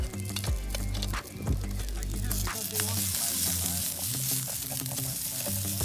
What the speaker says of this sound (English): we brought some traditional Swedish meatballs that can easily be fried up in the kitchen's frying pan